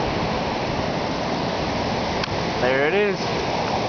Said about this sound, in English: I'll give you an idea of how close we are to the ocean